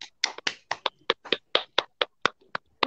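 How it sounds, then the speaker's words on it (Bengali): A small group of children clapping at a Christmas Eve children's fair, a dozen sharp claps in a quick, slightly uneven rhythm, close and clear with no talk. "সবাই একটু হাততালি দাও, অনিশা কি সুন্দর বললো।"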